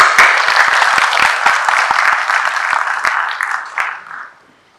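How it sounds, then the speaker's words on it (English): Audience applause at the World Heart Day 2022 ceremony hosted by Maroof International Hospital at the President's Secretariat, welcoming Mr. Harun Nasir. A dense, steady round of clapping from a crowd that tapers off and fades out near the end. "please give a big round of applause to Mr. Harun Nasir"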